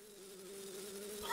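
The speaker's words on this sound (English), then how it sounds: "my god. A bee." A bee in the video game Majora's Mask gives off a steady, close insect buzz that holds evenly for its whole short length and grows slightly louder near the end, with no talk over it.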